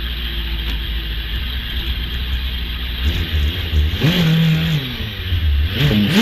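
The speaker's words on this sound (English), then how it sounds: "I can hear the car firing back into life." Gould GR59 hillclimb race car at Loton Park firing back up after a stall, idling roughly at first, then blipping through several loud, rising revs close to the listener.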